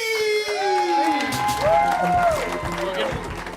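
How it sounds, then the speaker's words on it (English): Crowd cheering and applause for a comedian at a small comedy show, with whoops and shouts over clapping while a voice carries tonal talk on top. "How about a huge round of applause for Kristen Key?"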